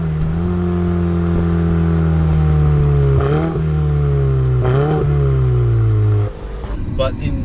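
Turbocharged V8 of a 2017 Ferrari 488 GTB holding a steady loud drone with two sharp revs rising and falling midway, then dropping off near the end, with no talk over it.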